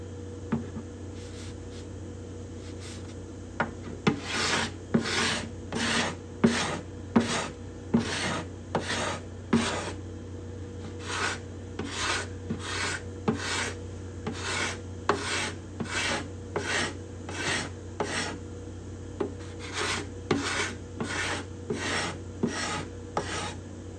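Hand scraper working the bindings and purflings on the cedar top of an acoustic guitar, a steady run of short raspy strokes, close and clear, repeating at a brisk, even rhythm with no talking.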